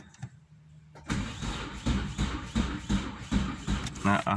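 A pickup truck engine cranks and catches after a quiet start, then runs with uneven, pulsing revs up close.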